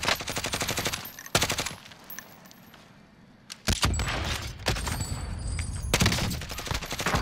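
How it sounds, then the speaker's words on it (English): Video game gunfire in a combat match, rapid automatic bursts of shots in close, loud volleys separated by short pauses, with a quieter stretch in the middle before the firing resumes. "Now he's trying to shoot at me though."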